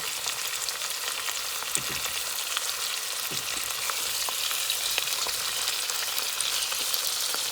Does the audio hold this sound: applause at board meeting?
no